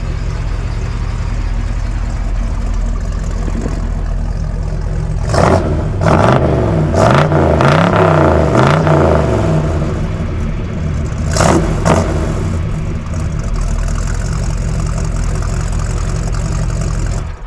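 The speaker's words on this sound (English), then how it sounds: "We'll hear that new dual exhaust." The 396 V8 of a 1967 Chevy Impala idles with a steady rumble through new dual exhaust, then revs up sharply several times and revs once more later, loud and close.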